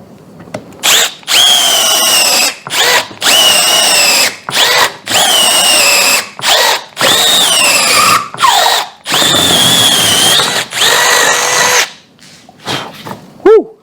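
A cordless drill whines in repeated loud bursts, revving up and stopping about ten times as a spade bit bores through wood, with a squeal near the end.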